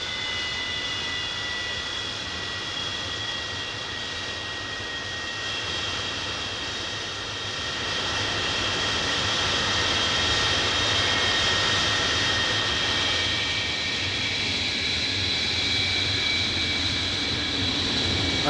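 Jet engines of MiG-23 fighters roar steadily with a high whine, swelling louder midway as the aircraft power up and take off nearby from a German autobahn.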